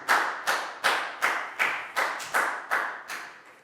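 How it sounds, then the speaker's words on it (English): A primary class claps in unison for a pupil during a Year 4 health lesson: about nine slow, evenly spaced group claps, each with a short ringing room tail, and no talking in between. "big round of applause for Pak Bung"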